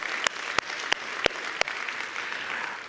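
A church congregation applauds for the Lord in a steady, close wash of clapping, with a few sharp, louder hand claps punctuating it and no talk.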